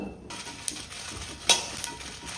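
About fifteen dried red chillies frying in half a spoon of oil in a pan, a brief close sizzle broken by a couple of sharp spatula clicks.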